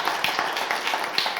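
Audience applause in a French café-style show, a steady dense patter of many hands clapping at moderate loudness throughout the short burst.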